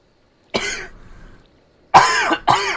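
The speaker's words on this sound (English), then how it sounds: "All this talking's messing up my fucking cough today." A person coughs: one harsh cough with a fading rasp, then after a short silence two more loud, rough coughs close together, near and without any talking.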